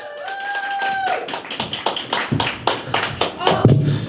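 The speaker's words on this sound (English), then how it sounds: "Round of applause for George." Scattered clapping from a stand-up comedy club audience, close sharp claps building into a small burst of applause, with a brief voice at the start.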